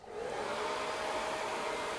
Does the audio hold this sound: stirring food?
no